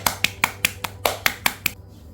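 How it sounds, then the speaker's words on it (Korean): Crisp hand claps indoors on a rainy countryside evening in rural Korea, eight sharp evenly spaced claps in a quick steady rhythm, close and clear, then stopping abruptly. "박수 오랜만이네."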